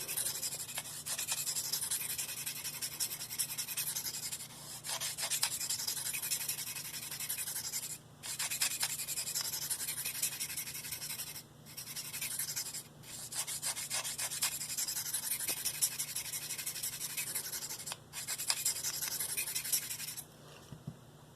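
A Spyderco Native 5 Lightweight knife with a Maxamet steel blade being sharpened on a stone, long repeated rasping strokes in steady runs broken by brief pauses, close and continuous.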